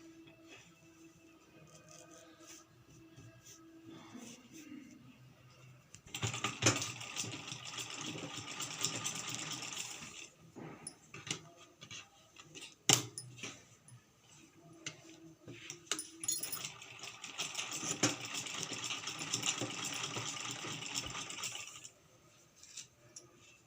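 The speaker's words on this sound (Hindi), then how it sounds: "हम यहाँ पर सिलाई लगा रहे हैं वो आधे इंच के गैप से लगा रहे हैं" A sewing machine stitches a boat neck blouse in two bursts of rapid mechanical whirring and clatter, separated by quiet pauses with faint handling sounds, all fairly soft.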